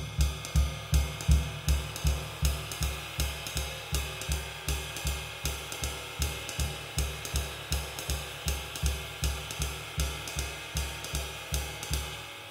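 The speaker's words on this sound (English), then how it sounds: "So by just drums alone, feathering would sound like this." Bass drum feathered alone in soft, steady quarter notes, a low muffled thump repeating evenly and close with no other instruments.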